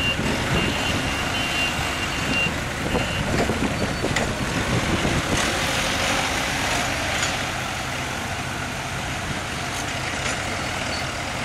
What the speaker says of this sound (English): This is how you unload them using two forklifts.